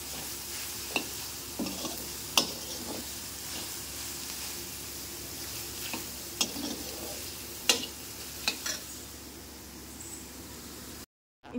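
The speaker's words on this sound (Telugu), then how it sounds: "ఇప్పుడు మనం ఇదే ఆయిల్లో సోయా చంక్స్ యాడ్ చేసుకుందాం. ఇది కొంచెం రోస్ట్ చేసుకుందాం." Soya chunks roast and sizzle in hot oil in a pan with a steady hiss, stirred with occasional sharp scrapes and clicks, continuous and close, with no one talking.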